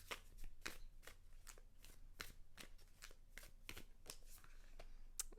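Tarot cards are shuffled and drawn by hand, giving a steady series of soft, crisp riffling snaps and flicks at a quick rhythm, close and quiet.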